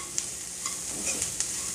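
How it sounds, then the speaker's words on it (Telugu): Spices and ingredients for aloo tikki fry in a pan, giving a close, steady sizzle with a few sharp crackles and pops scattered through it. "ఇవన్నీ కొంచెం ఫ్రై కావాలి"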